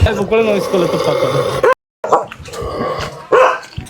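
A dog barks repeatedly nearby, sharp loud yelps mixed with people talking, with a brief silent gap partway through.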